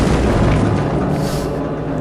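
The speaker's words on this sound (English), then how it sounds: "The reason there's a random explosion is I think I just bought Action Essentials." A deep, boomy explosion sound effect from an Action Essentials pack rumbles loudly and alone, with a broad roar that slowly decays.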